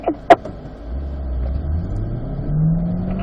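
Autocross car leaving the start line, its engine note climbing steadily as it accelerates away, with a sharp click near the beginning and a continuous rising rumble throughout.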